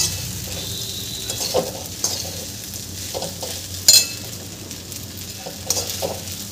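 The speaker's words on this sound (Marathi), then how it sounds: "आता मी हे छान मिक्स करून घेत आहे।" Sabudana khichdi with fried whole peanuts is stirred in a frying pan over low-to-medium heat, giving a steady soft sizzle broken by irregular spoon scrapes and a few sharper clinks against the pan, close and clear with no talking.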